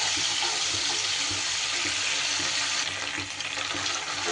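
Ginger and green chili paste sautés in a hot pan, giving a steady, close sizzle and crackle with faint stirring scrapes throughout, no voices.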